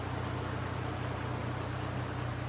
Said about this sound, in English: the exhaust is kind of loud